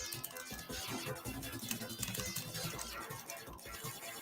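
Rapid, dense clicking of buttons being spammed heavily while playing the Return of the King video game, a fast busy patter of clicks under game sound and talking.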